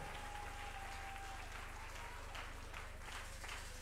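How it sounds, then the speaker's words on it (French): A church congregation applauds for Jesus Christ in dense, sustained clapping that holds steady throughout, sounding like a rush of rain. "Acclame très fort Jésus-Christ"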